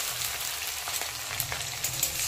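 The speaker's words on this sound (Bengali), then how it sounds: "ফোড়নটাকে একটু লাল লাল করে ভেজে নেব।" Green chillies and tempering spices fry in hot oil for a Bengali dhekia greens dish, a close, dense crackling sizzle with small pops throughout and no talk.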